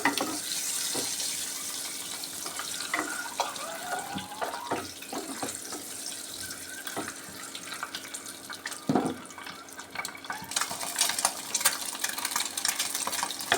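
Oil sizzles and crackles steadily as an egg fries in a pan, with occasional clinks of a utensil against it.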